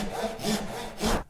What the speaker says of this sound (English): I'm going to cut about 1 millimeter away with my saw here